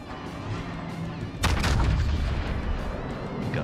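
Naval gun salvos from warships in the World of Warships video game, a sudden loud booming blast after a quieter stretch, followed by a rumbling, crackling tail that lingers to the end.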